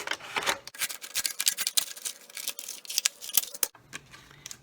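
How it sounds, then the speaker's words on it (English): Scissors snip through a plastic soda bottle being cut into a face shield: a rapid, close series of sharp crisp clicks and crunches, briefly pausing before a few final cuts. "we're going to cut up that cut all the way to the top and then cut this piece off"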